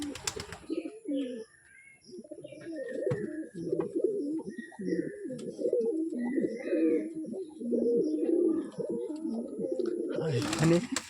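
Pigeons in a coop cooing back and forth, low throaty rolling coos repeating close by, with faint chirps in the background and a voice speaking briefly near the end.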